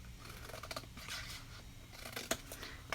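Scissors snipping a miter cut into a thin paper flap, a few quiet close crisp snips with faint rustling in between.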